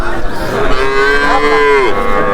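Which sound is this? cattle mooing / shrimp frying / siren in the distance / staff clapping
cattle mooing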